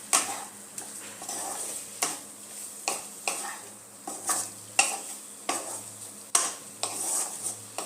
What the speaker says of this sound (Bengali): আলুটার সাথে মশলাটা আরও 2 মিনিট একটু কষিয়ে নেব।